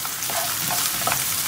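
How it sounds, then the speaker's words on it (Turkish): Onions fry in a pan for an eggplant dish, a loud, close, continuous sizzle with a few brighter spits, no voices. "Soğanların kavrulmasını bekliyoruz."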